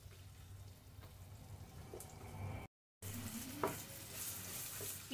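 Onion and garlic fry in a pan for a bean paste bharta, a soft, fairly quiet sizzle with occasional stirring scrapes, broken by a brief moment of total silence partway through.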